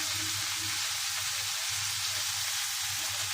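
Oil heats in a cooking pot with a steady, even sizzle that hisses continuously and fairly loud, with no voices.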